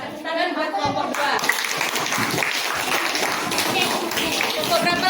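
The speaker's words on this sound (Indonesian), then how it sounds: "Tepuk tangan buat kelompok 2." Schoolchildren clap for a group of classmates during a lesson, a busy patter of hands that keeps going, with children's voices chattering underneath.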